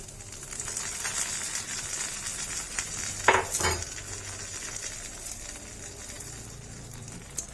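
A tempering of mustard seeds and dried chilli sizzles in hot oil for a garlic raita, a low crackling hiss with a sudden louder burst of spattering and a clink of utensils partway through.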